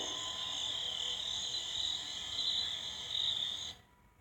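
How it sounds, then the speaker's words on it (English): Steady, high-pitched insect chirping fills a quiet night scene, continuous and fairly close, then abruptly cuts off near the end. "catches nothing but crickets chirping under a night sky"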